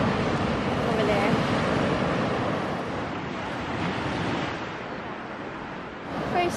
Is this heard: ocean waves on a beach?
yes